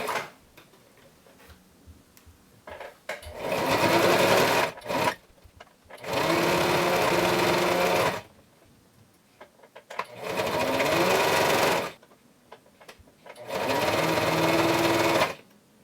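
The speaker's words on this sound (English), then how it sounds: "and then sew it like this, you can then spin it around and sew the whole thing a lot more easily." A sewing machine stitching a fabric face mask runs in four sustained bursts of a few seconds each, with quiet gaps and small clicks of the fabric being handled between runs.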